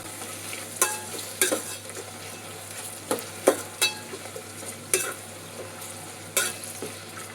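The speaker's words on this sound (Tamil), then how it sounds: "வெங்காயம் வதங்கட்டும்," Long-sliced onions and green chillies sautéing in a pan for rice cooker chicken biryani, a quiet steady sizzle with a spatula stirring and scraping in irregular clacks every second or so, close by and without talk.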